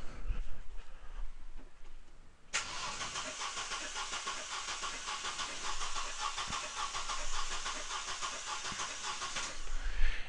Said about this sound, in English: So I'm just going to go ahead now and crank the engine.